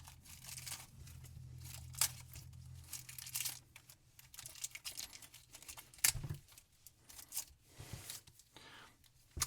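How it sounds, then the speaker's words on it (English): Plastic wrapping is pulled and crinkled off an action figure in quick, irregular bursts of rustling and tearing. The sound is close and fairly quiet, with a low hum in the background early on. "we gotta try to get the plastic off of her"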